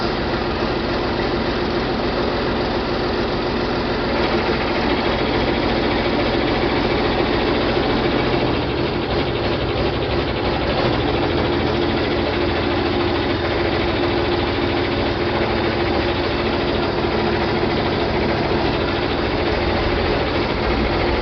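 A John Deere 4020 tractor engine runs at about 1000 RPM, still a little smoky, with a loud, steady, close drone and vibration that holds even throughout, with no talking.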